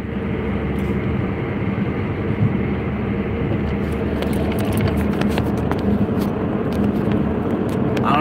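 A car drives along with the cabin noise heard from inside, a steady low rumble and road hum throughout, with faint clicks and rattles later on.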